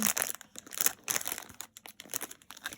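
Packaging from a creative crafts hobby box is unwrapped close by, producing continuous crisp crinkling and crumpling rustles in uneven bursts, with no talking.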